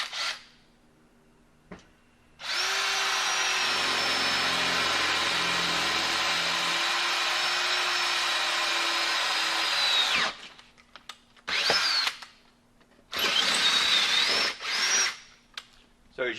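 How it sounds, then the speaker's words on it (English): A power drill bores into a gun safe with no hard plate, grinding steadily and loudly for about eight seconds before stopping. Shorter bursts of drilling follow between pauses. "this will demonstrate how easily you could drill this safe"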